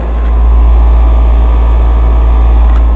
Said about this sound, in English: I'm gonna let you hear the compressor.